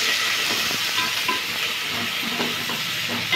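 Medium-size onions sautéing in a pan for mutton biryani give a steady, close sizzle with soft scraping stirs scattered through it, all without speech.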